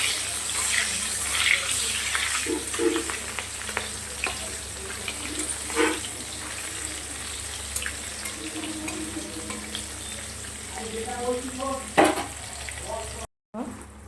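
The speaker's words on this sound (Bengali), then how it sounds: "তেলটা গরম করে মাছগুলো ছেড়ে দিয়েছি" Fish pieces fry in hot oil for a katla curry, a soft continuous sizzle with a few scraping stirs and clinks, fairly faint, briefly cut off near the end, no talking.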